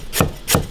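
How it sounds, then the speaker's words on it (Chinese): Two crisp knife strokes slicing fresh ginger on a chopping board, each a sharp chop with a brief woody thud, spaced about a third of a second apart, close and clear. "生姜切片"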